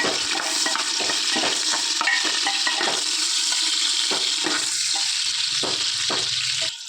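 Continuous loud sizzling of onions, cinnamon, cloves and cardamom frying in hot ghee, with scattered scraping stirs and clicks, no voices.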